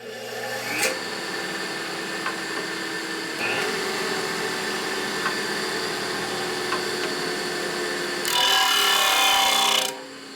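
Power grinder working a rocker arm from a 1950 Harley-Davidson panhead: a continuous loud motor whine with brief scraping contacts, then a harsher, louder burst of grinding near the end before it cuts back.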